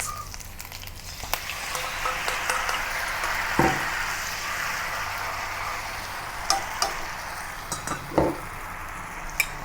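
Kaffir lime leaves and leftover prawn marinade sizzle steadily in a pan for Malaysian-style tamarind prawns, a continuous frying hiss punctuated by several sharp clinks of a utensil against the pan, with no talking.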